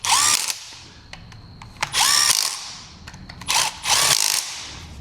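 A power drill runs in three loud bursts, driving 10mm bolts into a Honda Fit GD3 transmission during an input shaft bearing replacement. Each whining spin-up is followed by a pause, and sharp ticks fall between the runs.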